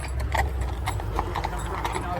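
Hooves of a group of cattle rushing over to a fence thud and patter as a rapid, continuous clatter under a voice talking close by.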